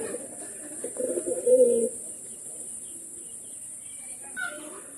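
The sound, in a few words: pigeons cooing in a loft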